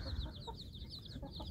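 Seven-day-old chicks cheep in rapid, high repeated peeps while hens cluck low and soft beneath them, a busy but faint brood chorus.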